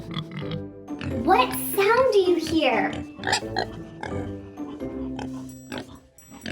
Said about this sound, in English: Yes, it's a pig.